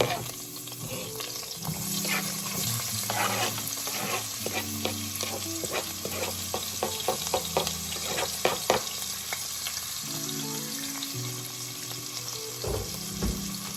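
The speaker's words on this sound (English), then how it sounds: "cut up the rest of our peppers and onion. So we're gonna add that in here too." Chopped peppers and onion sizzle in a pan with tofu for a curry, a steady frying hiss broken by stirring and scraping clicks, faint and close.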